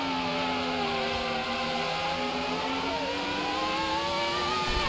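Gerhard Berger's Formula 1 car on a 1994 German Grand Prix qualifying lap, a steady high-pitched engine note held throughout with gliding pitch changes through gears, loud and continuous with no talk.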